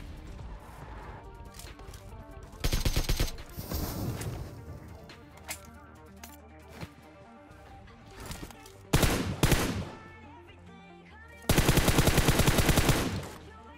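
AK rifle fire in PUBG Mobile comes in several loud rapid automatic bursts, separated by quieter stretches of game sounds and scattered distant shots.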